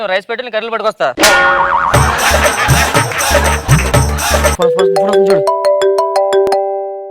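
A mobile phone rings with an incoming call, its melodic electronic ringtone loud and close, sounding between bursts of noisy background music and sound effects.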